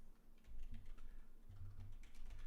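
Rapid, uneven clicking of keys on a computer keyboard as someone types, close and continuous in quick bursts with no talk.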